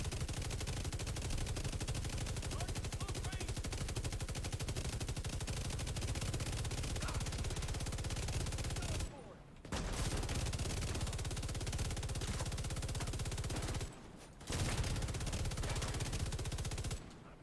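A high-rate light machine gun in The Division 2 fires in long, continuous, loud bursts of tightly packed shots, broken by two brief pauses, with no talk over it.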